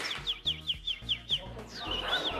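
A woman imitating bird tweeting with her voice, a quick series of about seven high, sharp chirps followed by a longer warbling trill, close and fairly quiet.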